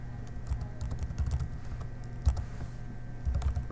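Quick keystrokes clatter on a computer keyboard, soft close-up taps in uneven bursts over a low steady hum, with no one speaking.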